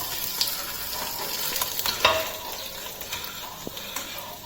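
Guntur red chilies fry in hot oil in a pan for pongalam, a steady close sizzle with occasional sharper crackles and spoon-stirring scrapes throughout.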